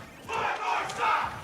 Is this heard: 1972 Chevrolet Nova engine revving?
no